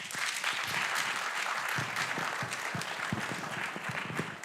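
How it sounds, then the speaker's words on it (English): Applause from an audience at a staff honors ceremony fills the room as dense, steady clapping that holds even throughout, heard from a moderate distance with no talk over it. "Give yourselves a round of applause."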